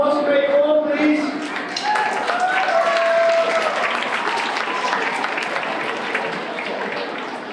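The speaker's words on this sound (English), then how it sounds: "big round of applause for Great Form, please." Audience applause at an elementary school rock and roll music concert, a loud, dense round of clapping from a full room with cheers mixed in near the start, holding steady and slowly tapering.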